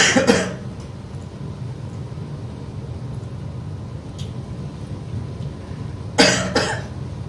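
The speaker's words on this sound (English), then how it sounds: "have a bit of a cough today." A man with a cold gives two short, close coughs, one at the start and another near the end, over a steady low background hum.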